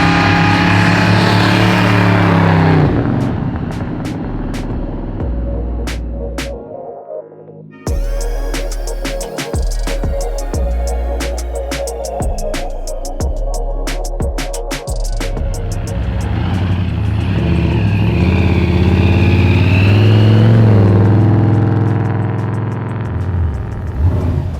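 A supercharged 850 hp big block engine in a 1966 Chevelle SS pro-street muscle car with an exposed blower, roaring loudly as it drives, revving up and down with sharp gear shifts and a steady heavy rumble, heard close up.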